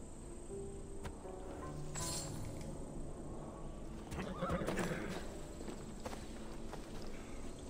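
A horse in Assassin's Creed Odyssey neighs in a clear whinny mid-clip, with clip-clopping hooves and crickets chirping beneath a steady outdoor ambience.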